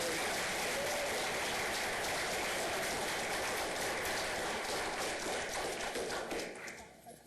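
Office staff at a meeting give a sustained round of applause for a departing colleague, Lee, a dense steady clatter of many hands that fades near the end, with some voices mixed in.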